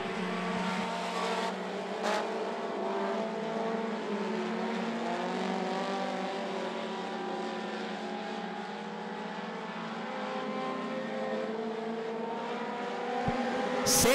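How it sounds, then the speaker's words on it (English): Race cars circle the I-75 Raceway oval in a constant loud, layered engine roar of several cars running together on track, sustained throughout with no speech. "the 9 of Langford, the 51 of McNabb side by side going into turn 3"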